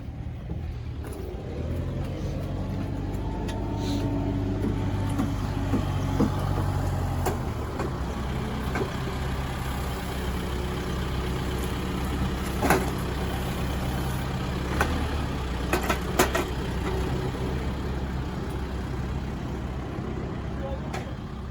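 A 2000-model Massey Ferguson 265 tractor runs during corn silage work, its engine chugging steadily at moderate distance, with a few clanks and knocks and people talking intermittently.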